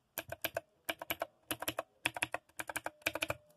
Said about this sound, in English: Then we got the clicky buttons.